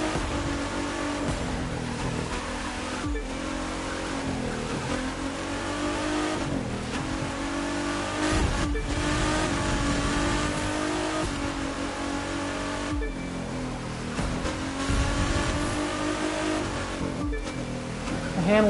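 A hypercar races at high speed in the video game The Crew 2, its engine roaring continuously with rising and falling revs through gear changes and curves, loud and steady across the whole stretch.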